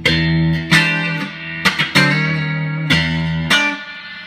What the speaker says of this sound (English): Got the reverb on.